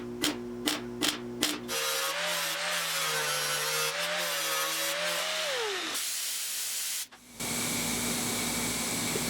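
Welding on the roof panel of a 1972 Triumph GT6 under restoration: a few sharp clicks, then a steady whining tone, followed by a harsh, crackling hiss that stops briefly and starts again.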